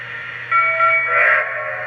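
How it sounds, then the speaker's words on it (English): Lionel Great Northern Pacific USRA model steam locomotive, cab #1385, sounds its whistle and bell: a sustained tonal whistle with ringing overtones rises over a steady low electrical hum for about a second and a half. "pressing the aux 1 until the whistle and bell go on"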